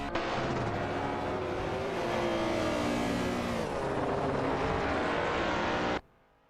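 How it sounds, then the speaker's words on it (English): Porsche 911 Carrera RSR race cars roar past in a racing video game, a loud, continuous engine drone with shifting pitch as the cars pass close by, ending abruptly in near silence. "911 Carrera RSSR 3 for the 11th spot"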